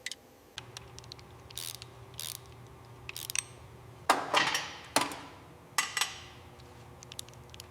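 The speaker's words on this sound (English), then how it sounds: "Just need to torque these down now." A ratchet torques down bolts during a Range Rover rebuild, giving several separate bursts of quick, close metallic clicking with short pauses between strokes over a low background hum.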